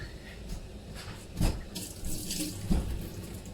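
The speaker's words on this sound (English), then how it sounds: "Wash the lemon" Running tap water splashes over a lemon being washed at a kitchen sink, a steady near hiss with a couple of louder splashes as the fruit moves under the stream.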